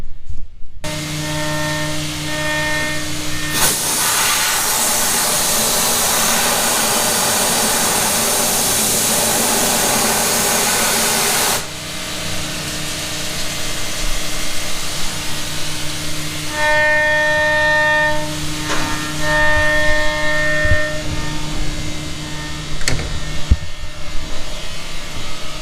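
A shop machine engraving forged wheels runs with a steady mechanical hum and whir, shifting in tone partway through as tonal whines rise and fall, loud and close with no talking.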